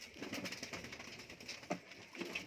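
Teddy pigeons, Kalsira teddy cross birds kept for sale, coo and murmur softly in repeated low calls amid a busy, noisy background.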